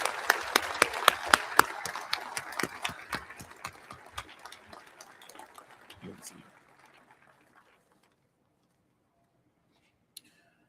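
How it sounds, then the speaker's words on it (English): A crowd applauds at a ribbon-cutting ceremony with dense, steady clapping that gradually thins and fades out, leaving near silence with one faint click near the end. "let's join in giving each of these folks a round of applause"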